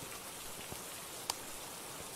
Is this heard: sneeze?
no